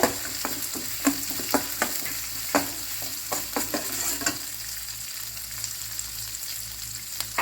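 Onion, curry leaves and dried chillies fry with dal in a pan for samba rava kichadi, a close sizzle punctuated by regular spoon scrapes and taps against the pan, then settling into a steady hiss.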